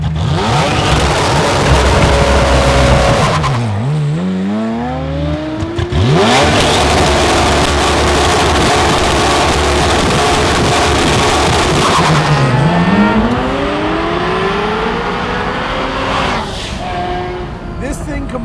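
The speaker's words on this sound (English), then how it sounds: "Ferrari V8, turbo wastegate, the click of a gated shifter." Twin-turbo, flame-spitting Ferrari 348 Challenge with a V8 making about 610 wheel horsepower, revving hard on launch control. The engine sweeps up and down repeatedly, with dips between pulls and a loud, continuous roar close by.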